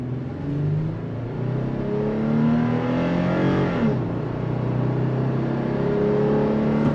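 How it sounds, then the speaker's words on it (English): Engine of a 2024 Toyota 4Runner TRD Off Road pulling hard under throttle, a steady rising drone heard from inside the cabin that climbs through the gears with a brief shift dip, loud and continuous with no talk. "But let me show you the on-throttle experience."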